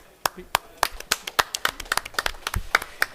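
A few people clapping at a COP26 session, sparse distinct handclaps in a quick uneven rhythm, close and fairly quiet, with a faint murmur of voices beneath.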